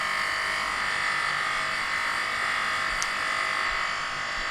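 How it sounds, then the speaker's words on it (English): A 320 grit abrasive belt runs against an aluminium Harley side casing, giving a loud, steady whirring grind that holds constant throughout, with no talk over it. "So we're starting off with a 320 grit abrasive belt."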